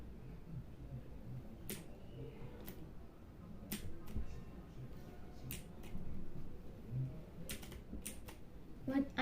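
Typing on a new computer keyboard in a quiet room, with sparse, irregular sharp key clicks scattered over several seconds against a low background murmur.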